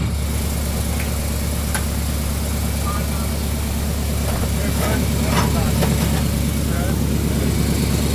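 A truck engine running steadily with its drive shaft spinning while the two-speed rear end is out of gear, a loud continuous low rumble with faint voices underneath.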